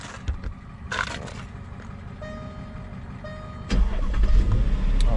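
A Jaguar car engine turns over and catches, then settles into a steady, fairly close running rumble that grows louder toward the end.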